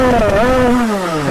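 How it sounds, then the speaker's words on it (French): A badly tuned motorcycle revs hard and accelerates while riding a wheelie, its engine note climbing then sliding lower in a loud, close, continuous whine with strong harmonics. "Ça accélère même en wheeling."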